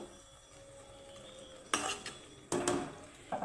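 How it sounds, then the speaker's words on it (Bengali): A lid set onto a cooking pot of mourola fish bati charchori, with a couple of sharp metallic clanks and rattles after a quiet stretch, close and fairly faint overall. "এখন আমি ঢাকা দিয়ে দিব"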